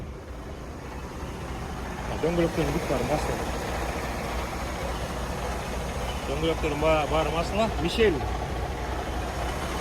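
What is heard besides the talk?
2021 truck engine idling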